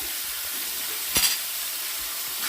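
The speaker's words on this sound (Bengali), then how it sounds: "এখন একটু ভেজে নেব।" Chicken pieces for curry fry in a pan with a steady broadband sizzle, and one brief louder burst of spattering rises near the middle before the hiss settles back. No one speaks.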